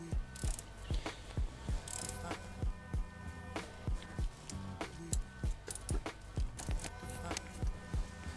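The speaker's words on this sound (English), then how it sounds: "I'm gonna torque these to spec." Steady, rapid ratchet clicking close up as a hand ratchet torques bolts on the coolant outlet of a 2001-2005 Honda Civic EX, in evenly spaced bursts of sharp mechanical ticks.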